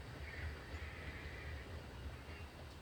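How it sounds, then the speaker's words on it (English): A horse whinnies faintly in the video game Red Dead Redemption 2, a soft, drawn-out call over a steady low rumble of game ambience. "Now I have a new horse."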